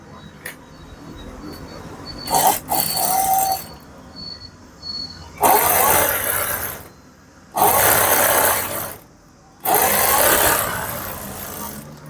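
A sewing machine stitches a puff sleeve on its lining in several loud whirring bursts of a few seconds each, separated by pauses with low room noise and a faint high whine, close up.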